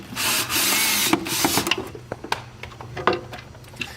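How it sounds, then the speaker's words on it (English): Screws being backed out of an acrylic spa cover panel, a steady whirring burst from a driver followed by scattered clicks, taps and rattles of the cover and hardware, close up and without talk. "Now we're going to take the cover off. So just 2 screws at the top."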